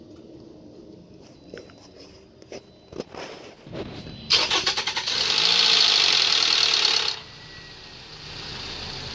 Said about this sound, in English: I'm gonna go ahead and turn the engine over for about 30 seconds